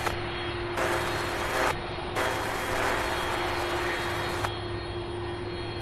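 A jet airplane takes off at Louisville's SDF airport: a sustained broadband engine roar that fills the whole stretch, steady and fairly loud, with no talk.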